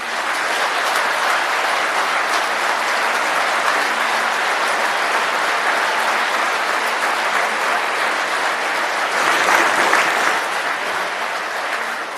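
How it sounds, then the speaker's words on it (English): Sustained applause from a large audience, steady and full for several seconds, swelling briefly near the end before easing off. "give him a round of applause if you would"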